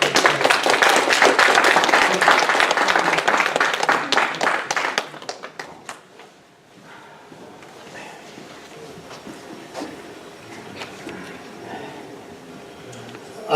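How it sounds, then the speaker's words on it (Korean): A church congregation claps to welcome a visiting pastor to the pulpit during a Sunday service, with loud, dense applause that thins out and gives way to a quiet room with small rustles and scattered taps. "오늘 목사님 모실 때 힘찬 박수로 반갑게 맞아주도록 하겠습니다."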